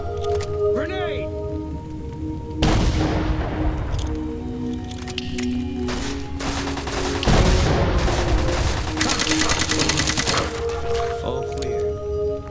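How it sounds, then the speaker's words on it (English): A grenade blast and bursts of gunfire ring out in Fallout New Vegas, loud crackling explosions and rapid shots arriving in several heavy clusters, with a voice speaking over the fighting. "Grenade!"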